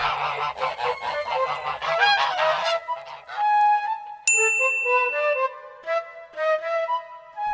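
Five white geese honk in a quick, loud run of calls as a storybook sound effect, followed by bright chiming bell tones and dings.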